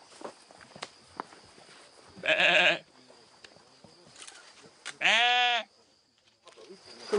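Sheep in a flock on a hillside meadow bleat twice, loud and close, separated by a few seconds, with scattered footsteps and rustling between the calls.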